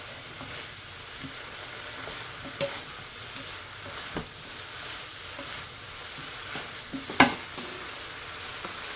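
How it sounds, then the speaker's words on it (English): Chicken with broccoli and other vegetables stir-frying in a pan over high heat gives a soft, steady sizzle with occasional utensil scrapes and clacks, one louder clatter near the end, close but fairly quiet and without voices. "I'm using still the high heat, so all these vegetables are cooking fast"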